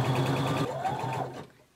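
A sewing machine stitches a band onto a top, with a steady whirring run that slows and stops near the end, clear and close with no talking.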